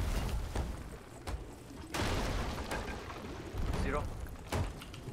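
Cannon fire during a Sea of Thieves brigantine hourglass PvP battle: several heavy, broadband booms land at uneven intervals over a dense backdrop of game noise, with voices talking in between.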